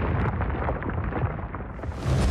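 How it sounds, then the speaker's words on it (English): Explosion from the Transformers Prime cartoon, a loud sustained rumbling blast with crackling bursts that stays dense and powerful for the whole stretch, swelling again near the end. "Explosion in slow motion."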